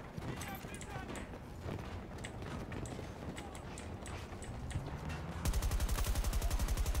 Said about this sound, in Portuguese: É tiro, porrada e bomba,